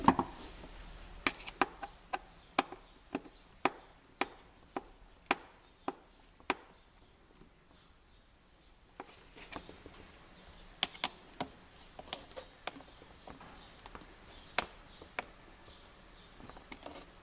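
Screws being driven and tightened into a ProMax Ascender hood panel, heard as a run of sharp, evenly spaced clicks close by in a quiet room, a short pause, then more clicks.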